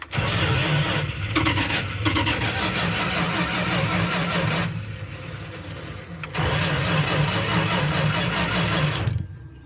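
A V8 engine with a two-barrel carburetor cranks and fires up, running loud and rough up close, dropping briefly between bursts and catching again, with no talking.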